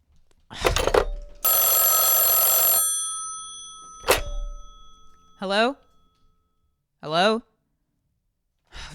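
An old telephone bell rings in one loud, sustained burst, bracketed by sharp knocks and a voice speaking nearby.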